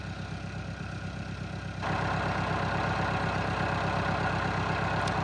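A tractor engine idles steadily on a horse farm, a low rhythmic diesel chug that grows louder partway through, with no talk.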